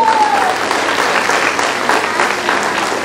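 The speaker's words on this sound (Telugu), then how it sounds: "మా హస్బెండ్కి కూడా ఒక్కసారి క్లాప్స్ కొట్టండి" A women's empowerment meeting audience applauds the organiser's husband with a dense, even wash of many hands clapping, sustained at a steady loudness throughout without letting up.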